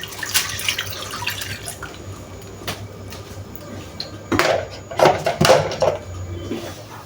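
Water drips and trickles into a roasting pan holding cooked turkey breast, with clinks of the pan and a cupboard-like knock, a few louder splashy bursts near the end, close and fairly loud.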